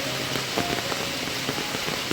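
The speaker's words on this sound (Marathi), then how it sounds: "पाऊस खूपच पडतोय" Dense, steady monsoon rainfall in a Konkan village patters on surfaces nearby, a constant hiss with scattered heavier drops throughout.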